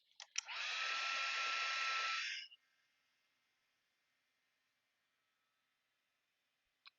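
A heat tool roars steadily for about two seconds, close and loud, drying paint on an art journal page, then cuts off, leaving a faint hum and a small click near the end.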